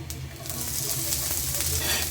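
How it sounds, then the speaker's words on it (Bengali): Steady, soft sizzling of onions frying in a pan, a continuous low crackle without pauses. "এর মধ্যে পেঁয়াজগুলো ভেজে নেব"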